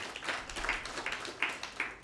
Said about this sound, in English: First, clap for him.